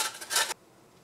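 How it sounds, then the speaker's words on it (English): Carrot rubbed against a hand grater, a half-second burst of dry rasping strokes that stops abruptly and leaves near silence. "You could use this tool to grate your carrot."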